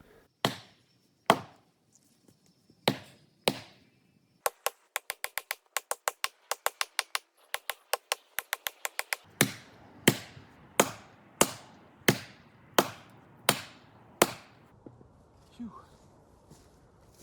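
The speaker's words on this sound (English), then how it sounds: "he had a 10-pound sledge, and I put that thing to work" A 10-pound sledgehammer drives steel wedges into a big dead Doug fir: sharp ringing strikes, first spaced, then a fast flurry of many blows, then slower heavy regular hits, close and loud.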